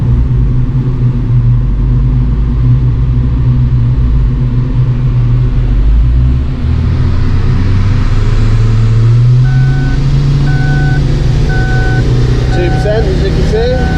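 A Ford Focus ST engine drones loud and continuous on a dyno, its pitch climbing through a pull, with a fan running and a repeated electronic beep later on.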